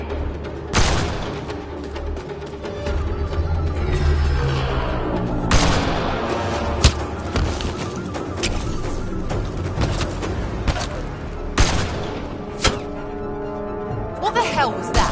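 Gunfire in Mass Effect Andromeda: loud, sharp shots ring out at irregular intervals over a dense battle soundscape, with voices shouting between the blasts.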